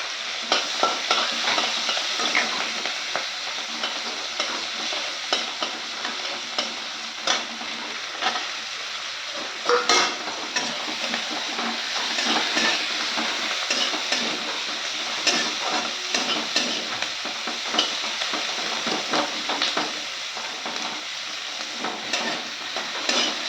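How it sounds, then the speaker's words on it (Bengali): Onion, dried chillies, green chillies and bay leaves sizzle and crackle in a pan, with a steady close frying hiss and occasional stirring scrapes throughout, no voices. "এবার সব দিয়ে দিচ্ছি পেঁয়াজ, শুকনো লঙ্কা, কাঁচা লঙ্কা, তেজপাতা"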